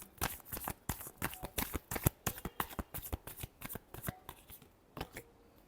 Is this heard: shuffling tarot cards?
yes